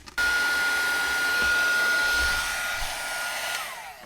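An embossing heat tool blasts a steady, loud roar of hot air as it melts embossing powder on a craft project, holding constant for about four seconds with a faint high whine on top and no talk.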